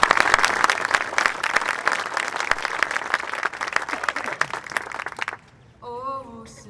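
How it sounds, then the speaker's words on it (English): An outdoor audience on a town square bursts into sustained clapping and applause for about five seconds, then it fades and a brief sung or musical phrase begins. "Please give an applause."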